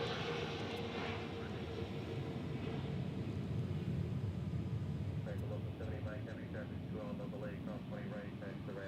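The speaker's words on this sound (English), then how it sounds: "This is our A321neo in from San Diego." Airbus A321neo airliner arriving at DFW International Airport, its engine roar steady and moderately distant across the whole stretch, with outdoor background noise and faint chirps in the later part.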